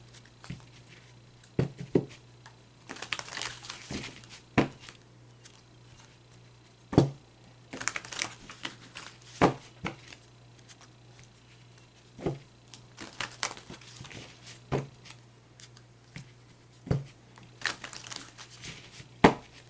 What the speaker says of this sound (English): now we're going to shuffle the tarot deck